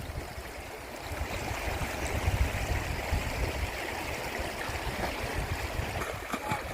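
Water flows steadily along a village stream channel near Losingwe, a continuous soft rushing and trickling wash that stays even and fairly quiet throughout.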